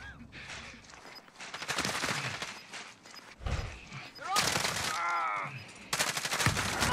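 Rapid bursts of automatic gunfire crackle in the Warzone video game, loud and repeated in clusters, mixed with excited shouting from a player talking over the shooting.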